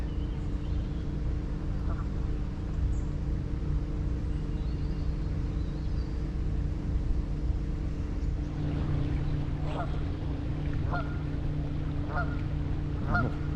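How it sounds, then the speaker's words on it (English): Canada geese honk in short calls over a constant low engine drone on the Norfolk Broads, the honks faint and scattered, growing more frequent toward the end. "Got Canadian geese as well."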